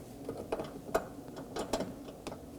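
Ratchet wrench snugging a recessed 10mm bolt on the door panel of a 2015-2023 Nissan Maxima during mirror replacement, giving a few quiet, irregular clicks close by.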